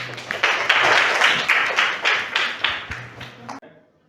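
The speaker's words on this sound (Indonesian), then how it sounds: "Oke, kasih tepuk tangan dulu yang meriah" A classroom of students claps for the first presenting group, a few seconds of fairly close, brisk clapping that tapers off and stops abruptly, with a voice heard faintly underneath.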